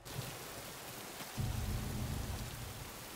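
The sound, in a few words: rain falling in a film scene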